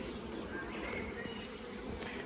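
A honey bee colony buzzing at an open hive during gentle frame inspection, a steady dense hum of many bees with occasional individual bees droning past, moderately faint and continuous.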